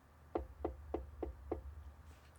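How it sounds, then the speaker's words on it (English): Five soft knocks on a door, evenly spaced and fairly quiet, with a low background hum and no talking. "more knocking, he opens the door just a little bit and peeks in."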